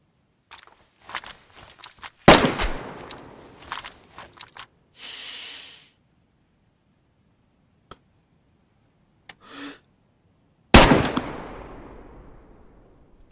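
Gunfire in the video game DayZ comes as sharp, isolated cracks that ring out with decaying tails, separated by footsteps, brief rustles and quiet gaps.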